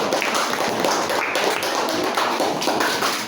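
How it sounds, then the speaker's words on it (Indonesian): Classmates clapping for a student group in a classroom lesson, a dense burst of hand claps from a small room full of people, close and fairly loud, steady for a few seconds. "kita berikan tepuk tangan untuk kelompok satu"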